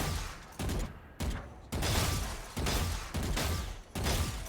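Bursts of Valorant gunfire repeat in a rhythmic pattern of short volleys with brief pauses between, loud and dense, from a shoot-move-stop practice sequence.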